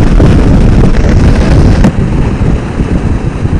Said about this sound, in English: But there is more wind, side wind.